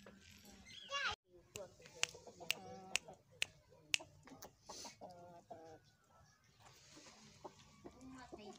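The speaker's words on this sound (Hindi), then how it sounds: "तो ये फिर है हमारा असील मुर्गा" Aseel chickens cluck softly at close range, mixed with short sharp clicks and a person talking quietly over them.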